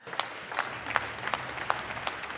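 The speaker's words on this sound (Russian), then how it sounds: "выступление Зеленского сопровождалось бурными и продолжительными аплодисментами Верховной Ради" Applause in the Verkhovna Rada, Ukraine's parliament, after a speech by Zelensky: steady, dense hand clapping from a large chamber, with a few louder claps standing out every half second or so.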